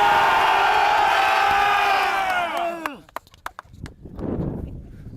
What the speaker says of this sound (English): listen to this FSU crowd roar.